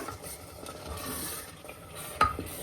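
Masala mixture being stirred in a cooking pot for a lentil curry, giving a soft, steady scraping and faint sizzle with one sharper clink of the utensil against the pot near the end.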